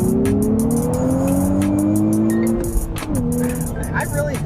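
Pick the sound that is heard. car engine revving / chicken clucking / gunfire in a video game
car engine revving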